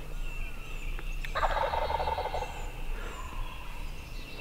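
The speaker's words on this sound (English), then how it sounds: "I can hear my bird drumming" Outdoors on a hardwood ridge, a wild turkey lets out a brief rattling gobble at a moderate distance over a low steady background hum.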